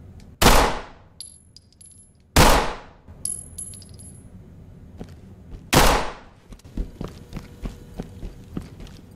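Pistol shots in the tactical shooter Ready or Not, three loud, sharp reports a couple of seconds apart, each ringing off briefly, followed by quieter clicks, clinks and footsteps.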